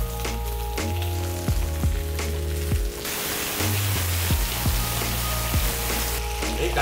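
Onions and potatoes frying in hot oil in a pan for a Spanish potato omelette, giving a steady close sizzle throughout with a louder burst of crackling partway through, over a low background hum.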